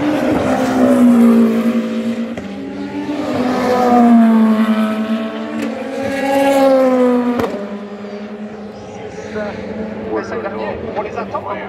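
Race cars arrive together at the finish of the 2025 24 Hours of Le Mans, Ferrari among them. Their engines rise and fall as they approach, heard beneath steady French commentary.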